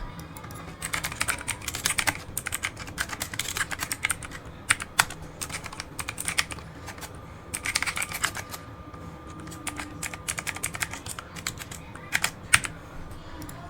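Steady typing on a computer keyboard, with quick, close, uneven clicks and occasional firmer key strikes as lines of code are written.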